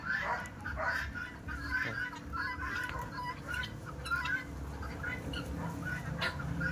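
A flock of sixteen guinea fowl calling in a backyard farm, with repeated harsh, rapid cackling and chattering calls overlapping continuously, fairly close, over a low background murmur and faint other birds.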